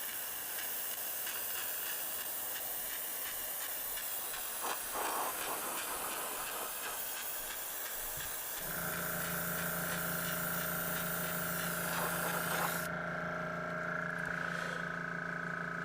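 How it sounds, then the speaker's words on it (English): Air compressor running during a model build, a steady hissing hum with a strong tonal drone that starts abruptly halfway through, faint and continuous with low background. "Mr. Compressor's busy making a noise here."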